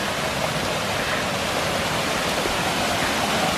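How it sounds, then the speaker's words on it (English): Small waterfall on a high mountain trail near Lake Agnes, above Lake Louise, in snowy conditions; a steady, dense broadband rush of falling water, close and unbroken throughout, with no voices. "there's a cute waterfall ahead of us."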